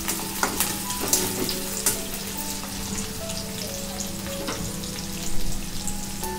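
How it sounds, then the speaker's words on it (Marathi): Onion frying in oil in a pan for Maharashtrian pithla, a close steady sizzle with intermittent spatula scrapes and taps and a brief louder flare of frying near the end, no voices. "हो, अजून चांगला फ्राय झालाच नाही कांदा."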